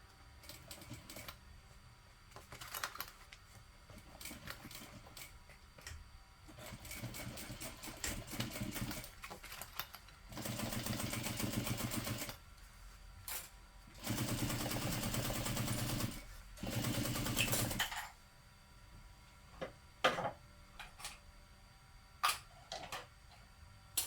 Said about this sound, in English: I'm going to sew only through back pocket A and B using a 1/2 inch seam allowance